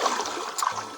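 Flooded river water rushing in a steady broadband wash, close and fairly loud for a brief moment, with a slight splashy swell near the middle.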